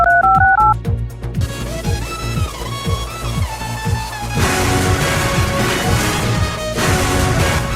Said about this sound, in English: as I need to call Scott Blockskip via this pay phone